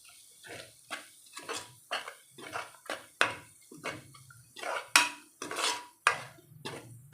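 A spoon scrapes and clanks rhythmically through an onion and tomato masala in a pan for a vegetable kurma, with repeated loud strokes and a few metallic knocks.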